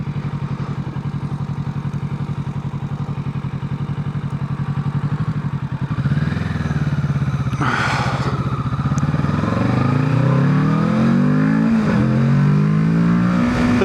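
A starter motorcycle accelerates below full throttle, its engine note climbing steadily and loud and close, with a rising, sweeping tone through the gears over a continuous rumble; no one speaks.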